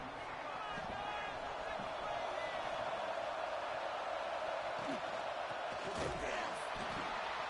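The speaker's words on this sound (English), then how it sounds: "Listen to the crowd energy here in the early going." Stadium crowd in the College Football 26 video game: a steady, dense roar of cheering fans held throughout at a constant level, with faint thumps and a commentator speaking over it.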